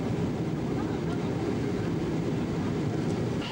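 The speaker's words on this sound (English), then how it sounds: "new Hong Kong airport and just landing at the landing strip" Steady, loud airliner cabin roar with deep low rumble as the aircraft lands at the new Hong Kong airport in 1999, a continuous wash of engine and airflow noise throughout.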